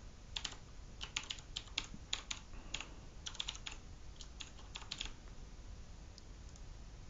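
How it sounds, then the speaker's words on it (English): Soft clatter of keys on a computer keyboard as a command is typed, quick uneven taps in small bursts, faint and close, trailing off toward the end. "we're going to type in the command"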